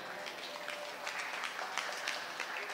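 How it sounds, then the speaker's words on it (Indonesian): Scattered, fairly faint applause from an audience at an Indonesian forum event, cheering the national football team's win, with a few sharper claps over a soft crowd background. "Tepuk tangan untuk timnas Indonesia."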